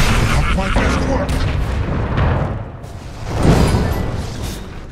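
A defensive tower crumbling under attack in the Dota 2 video game, heavy booming impacts and rumbling debris forming a dense, loud wash of sound, with a second swell of crashes near the end.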